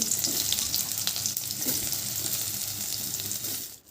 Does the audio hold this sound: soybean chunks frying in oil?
yes